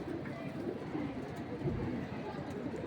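Pigeons coo softly and steadily in a rooftop pigeon loft, their low murmuring calls blending into a dense, constant background with no clear pauses.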